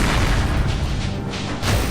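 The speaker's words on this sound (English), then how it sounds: "these big guys also detonate into nuclear explosions" A big enemy in the video game Cryptark detonates in a nuclear explosion, a loud, continuous deep roaring boom filling two seconds without pause.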